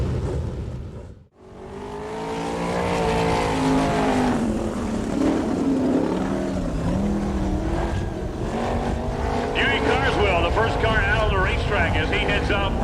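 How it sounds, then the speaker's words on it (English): Sprint car engines roaring through warm-up laps at Dixie Speedway, a dirt track in Woodstock, Georgia, in an All Star Circuit of Champions event; loud sustained engine drone after a brief dropout, with a commentator talking over it. "Sprint car warm-ups are next."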